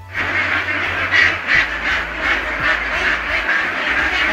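Ducks at a duck farm in Monohardi, Narsingdi, quack loudly and continuously, a dense flock calling over one another at close range with no talk.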